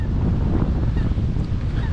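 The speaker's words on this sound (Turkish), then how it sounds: "bugün şansımıza ciddi bir rüzgar var burada" Strong wind buffets the microphone at a campsite with caravans, a loud, constant low roar and rumble with gusty swells and no talking.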